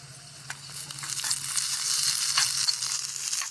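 Curry leaves, cubed onion and chopped garlic crackle and sizzle in hot oil in a small kitchen pan, a moderate close frying hiss with scattered sharp pops and no speech.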